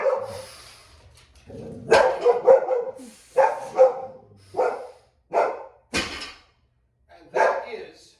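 A dog barks repeatedly in sharp, irregular bursts, loud and close, during a barbell deadlift workout, with a brief spoken word near the start.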